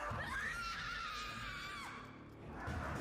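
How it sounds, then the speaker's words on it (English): A sustained high scream in a scary horror scene, loud and shrill, rising and bending over about two seconds before breaking off, with a rumbling, noisy background beneath it. "The screams don't even sound real."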